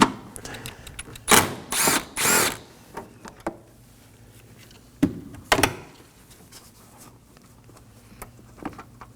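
A power tool whirs in short bursts while removing a 10 mm bolt from the coolant reservoir of a 2015-2023 Nissan Maxima 3.5L V6, followed by clinks and clatter of parts, close by in a quiet workspace.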